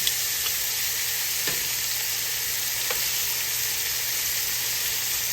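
Shrimp fry in a hot skillet with a loud, continuous sizzle and crackle, steady and close, broken by a few faint clicks from a utensil, with no speech.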